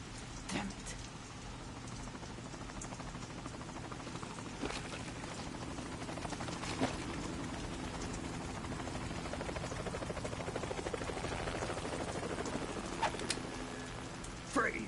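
A helicopter hovers in the video game Metal Gear Solid 2, its rotor thumping as a steady, constant drone from start to finish, with rain-like patter and a few faint clicks mixed in.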